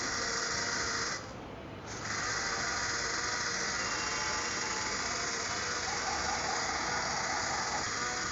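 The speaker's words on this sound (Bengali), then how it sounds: "এখন আমি একটা ব্লেন্ডারে এই মিক্সটাকে ব্লেন্ড করে নিব।" A blender runs continuously, whirring loudly at a steady high pitch while blending a mango ice cream mixture, with a brief dip in intensity early on before resuming its constant drone.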